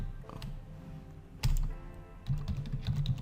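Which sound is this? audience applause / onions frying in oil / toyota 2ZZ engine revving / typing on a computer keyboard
typing on a computer keyboard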